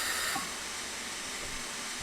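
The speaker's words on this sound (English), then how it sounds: "Now see, look, watch these brakes." Air brakes on a train in the Railworks 3 simulator at Elsecar Heritage Railway hiss in a steady, moderately loud broadband rush that holds throughout as the locomotive is brought to a stop.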